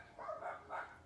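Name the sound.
dogs barking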